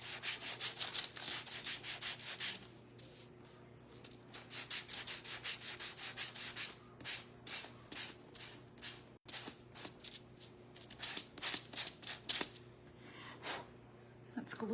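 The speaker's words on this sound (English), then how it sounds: "let's go ahead and sand this" Hand sanding a small painted wooden star cutout for a highland cow craft: steady, close scratchy rubbing strokes in quick bursts with brief pauses, fairly quiet and without speech.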